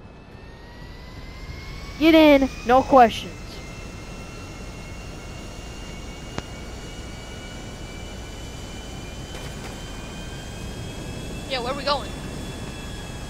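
Airplane engine droning in flight in the game GTA 5 Online, a steady whining hum under the whole stretch while two people talk briefly near the start and again toward the end.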